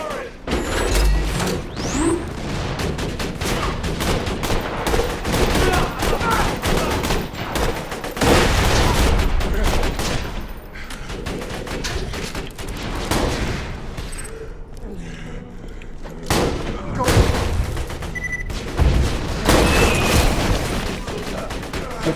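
Turret gunfire and explosions in Borderlands 2: rapid, dense bursts of automatic fire crackle almost without pause, broken by heavier booms, while a player's voice talks over the chaos.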